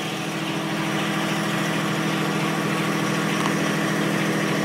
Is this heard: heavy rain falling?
no